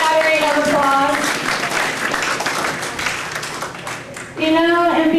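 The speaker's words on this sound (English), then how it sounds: "smattering of applause" A church audience applauds for several seconds, a dense burst of clapping that fades before a speaker's voice resumes, with speech also heard at the start.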